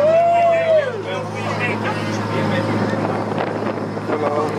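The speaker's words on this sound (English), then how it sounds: "If it's too loud, it's the boat." A boat engine roars loud and close while wind buffets the microphone, and a voice talks over the steady rumble throughout.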